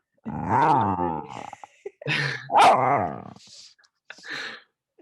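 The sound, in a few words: dog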